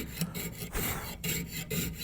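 A jeweler's saw cuts metal for a blanking die in steady back-and-forth strokes, a rasping scrape repeating about twice a second, close and alone.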